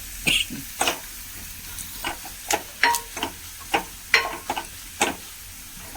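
Onions frying in a pan with coriander powder and Kashmiri chilli powder, a green peas stir-fry in progress: a spoon scrapes and stirs in irregular bursts over a soft steady sizzle, close and alone.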